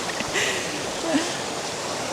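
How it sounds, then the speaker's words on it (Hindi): A mountain stream in the Lake District rushes steadily over rocks, a continuous broadband wash of flowing water at moderate level with no voices. "ये आवाज़ भी कितनी अच्छी लग रही है। वो देखो वहाँ से भी स्ट्रीम आ रही है चारों तरफ से"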